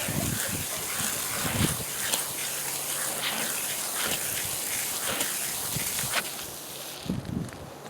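Water poured over wood shavings in the bottom of a container to dampen them, a steady splashing gush running throughout with a few close knocks and handling thuds.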